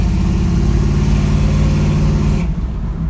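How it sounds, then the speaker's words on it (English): A 1967 Chevrolet Camaro engine runs steadily up close with a deep, continuous mid-range drone, loud and alone, dropping slightly in level near the end. "Finally, can hear that engine running."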